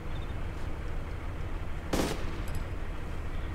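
A single sharp gunshot in the survival game DayZ Epoch rings out midway over a steady rumbling ambient backdrop, followed by a couple of faint clicks, with no talking.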